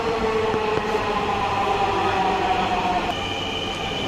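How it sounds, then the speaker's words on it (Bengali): Steady low rumble of a crowded Dhaka metro train with rolling wheel noise and a faint high whine, continuous throughout as it pulls into the station. "আমাদের ট্রেন অলরেডি চলে এসেছে"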